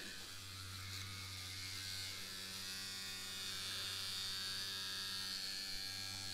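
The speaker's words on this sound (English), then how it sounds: "As you can see, we now have this machine running wireless" A wireless tattoo machine fitted with a cartridge and a battery grip runs fast and steadily, giving a continuous close electric buzz with a low hum throughout and no talking.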